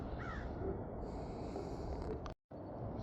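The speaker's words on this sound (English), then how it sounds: "I hear birds in the background." Crows caw outdoors at a cemetery, a few distant harsh calls over steady background noise, with a brief dropout near the end.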